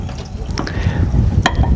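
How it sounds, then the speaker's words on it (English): Water runs and splashes into a glass sprouting jar holding a couple of tablespoons of seeds, filling it about halfway. The pour is close and uneven, with a sharp clink near the end. "fill it up halfway with water is good"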